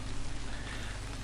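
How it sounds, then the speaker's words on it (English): Steady rain pours in a visual novel game scene, a dense even hiss with no voices over it. "So let's wait out the rain there."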